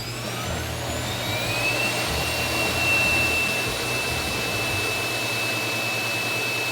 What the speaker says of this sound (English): let's see how loud this particular cleaning station is